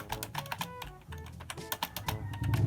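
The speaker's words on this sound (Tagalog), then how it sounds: "Meron din siyang tunog pag pinipindot, pero unlike dun sa mechanical keyboard." Rapid keystrokes on a RAKK Sari RGB gaming keyboard, a light plastic non-mechanical board, close and fairly loud, an uneven burst of clicky taps with no talking.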